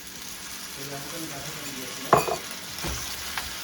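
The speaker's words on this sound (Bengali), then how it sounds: "কর্নফ্লাওয়ারটা মাংসের সঙ্গে সুন্দর করে একটু ভাজা ভাজা করে নিব" Beef coated with cornflour sizzles steadily in a pan for stew, with a couple of stirring scrapes and clatters midway over the constant frying hiss.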